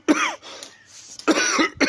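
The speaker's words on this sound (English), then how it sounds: "That's me forcing it, not coughing accidentally." A person deliberately forces out a few coughs outdoors on a cold, windy, fog-covered hillside along the Camino de Santiago, two loud bursts separated by a quieter windy gap, close to the microphone.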